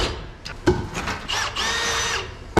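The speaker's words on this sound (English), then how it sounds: "So we gotta drill this hole." Power drill boring a hole through a metal bracket on a stub truck frame, with a few short starts followed by a steady high whine for about a second, close and loud, ending with a sharp clank.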